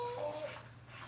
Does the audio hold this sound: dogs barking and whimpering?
yes